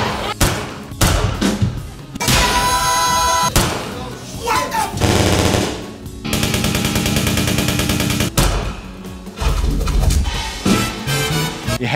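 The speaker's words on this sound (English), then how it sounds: "It has gunshots." Loud bursts of staged gunfire in a West End stage musical, rapid volleys and single thuds, broken up by stretches of dramatic sound effects and music, with no talking.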